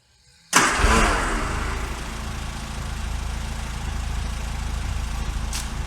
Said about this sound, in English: A russet brown Austin Allegro 1300 Rolling Road.